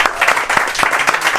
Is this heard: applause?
yes